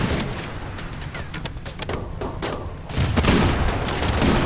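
Gunfire during a raid in RimWorld, rapid overlapping shots and booming bursts that build into a dense, loud fusillade toward the end.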